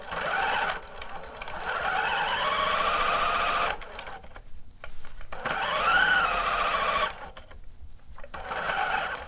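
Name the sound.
sewing machine stitching bodice shoulder seam with back stitch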